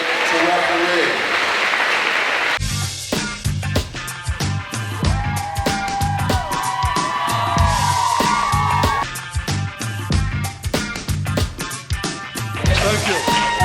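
Crowd applause for volunteer referees at a 3-on-3 tournament rises as a brief burst of clapping at the start, then gives way to loud rhythmic music with a steady beat for the rest.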